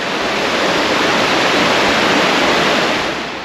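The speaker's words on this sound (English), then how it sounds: "Gold Creek is right there. You can still hear it." Gold Creek in Juneau, Alaska rushes nearby as a steady, loud broadband roar of flowing water along a trail, with no break over the whole stretch.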